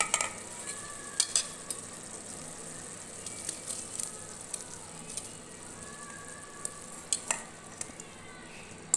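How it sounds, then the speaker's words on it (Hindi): Raw papaya pieces simmering in boiling sugar syrup on a stove, a faint soft bubbling and sizzle with scattered light clinks and stirring scrapes, quiet and without speech. "चीनी अच्छे से घुल गई है और बॉईल भी आ गया है। अब इसमें हम सारे"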